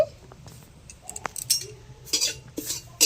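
Bay leaves drop into a karahi, and a metal utensil clinks and scrapes against the pan in short, close taps and clatters with quiet gaps between them, with no speech.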